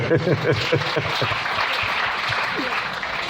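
A church congregation bursts into applause in praise of the Lord, a dense wash of clapping under a voice that carries on over the start before the clapping thins out.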